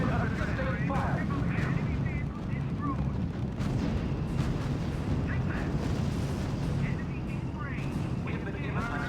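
Heavy gunfire and artillery rumble across a battlefield in the R.U.S.E. strategy game, dense continuous bursts and booms layered with radio-style voice reports throughout.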